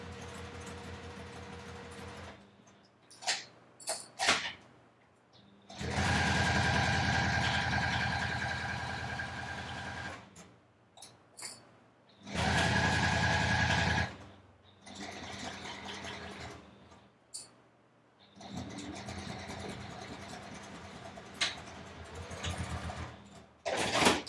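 A sewing machine stitches the side seams of a bag in bursts of steady mechanical whirring, stopping and starting between runs, with small handling clicks in the gaps and no speech.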